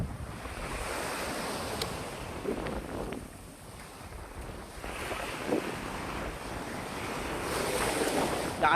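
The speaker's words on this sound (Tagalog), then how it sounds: "Lakas ng alon guys." Strong ocean surf rolls and crashes onto the shore, heavy waves surging and hissing in repeated swells while gusty wind buffets the microphone throughout.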